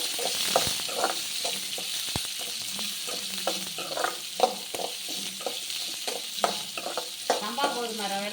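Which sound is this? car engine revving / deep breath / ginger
ginger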